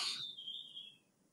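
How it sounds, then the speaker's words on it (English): A single bird call in the background, a bright whistled note that slides gently downward over about a second before fading, faint and with no talking. "there's a bird calling in the background"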